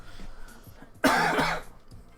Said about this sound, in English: Ugh, cough.